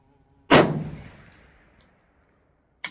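A Romanian RPK rifle fires one loud, sharp shot at steel targets, its report decaying over about a second, followed by a faint click and another abrupt crack cut off at the end.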